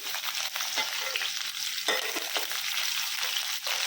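Onions and green chillies hit hot oil with urad dal tempering in a pan for a raw banana fry, a steady close sizzle with stirring scrapes and brief bursts of spattering, no voices.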